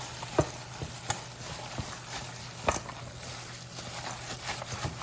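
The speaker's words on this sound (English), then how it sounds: "we're going to work those eggs in as well. Good mix in there." Ground turkey is worked together with eggs for a meatloaf, giving soft wet squelching and stirring close by, with a few sharper taps against the bowl and no talk.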